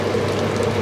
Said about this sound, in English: and we drain the rice